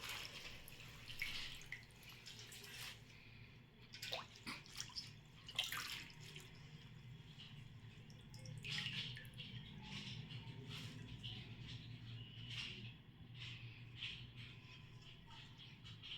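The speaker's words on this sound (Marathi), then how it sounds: "हिला 3 ते 4 वेळेस पाण्यातून असं स्वच्छ धुवून घ्यायचं" Cowpea leaves are rinsed by hand in water, giving scattered drips, splashes and sloshing bursts at irregular intervals over a low steady background, moderately close and fairly quiet.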